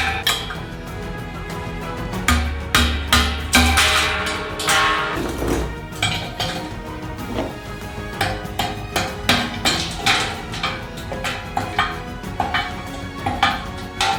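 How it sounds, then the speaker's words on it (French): A hammer knocks excess ice off the top of a metal drum used to make natural fruit ice cream at a street food stall. Repeated sharp metallic clanks and knocks come in irregular bursts, close and loud, with no talking. "Tout ce qui dépasse, on le dégage avec un marteau."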